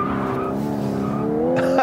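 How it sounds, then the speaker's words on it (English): A 2018 Lexus LC 500h hybrid's tires spin and squeal against the pavement as the engine roars steadily close by, ending in a brief louder burst. "Look at that, spinning tires in a hybrid."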